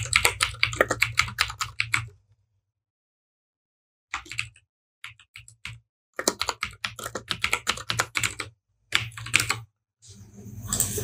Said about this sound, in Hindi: नेम मैं टाइप करता हूँ